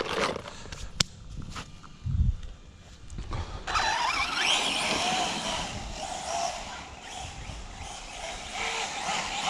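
An Arrma Senton RC monster truck with a broken slipper clutch runs nearby, starting with a few clicks and knocks, then breaking into a steady high whirring, slipping drivetrain whine that holds loud to the end.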